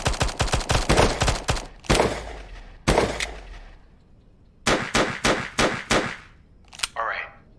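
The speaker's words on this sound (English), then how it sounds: "You got your teammate shooting" A teammate's gunfire in iDentity Rebels comes as rapid automatic bursts of sharp cracks, then pauses, single shots and another quick volley, loud and close with metallic clanks.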